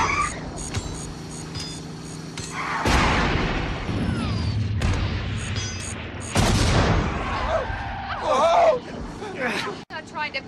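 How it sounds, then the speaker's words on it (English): Grenades explode during a car chase in the 1997 film The Love Bug, with a couple of heavy booming bursts over engine noise, music and shouting voices. "Grenades!"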